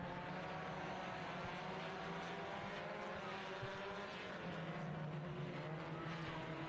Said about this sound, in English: Green flag is out and we are racing.